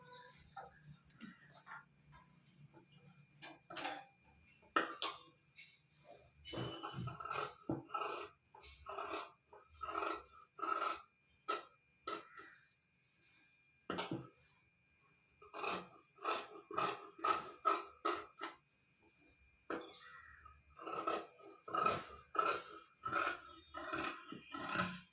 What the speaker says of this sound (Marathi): तर आपल्याला हे कट करून घ्यायचं आहे.